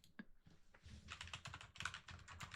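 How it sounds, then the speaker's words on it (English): Fast typing on a computer keyboard, close and quiet, a dense run of clicking keystrokes in bursts with brief pauses. "I hope you can hear my typing because that makes it 10 times more funny."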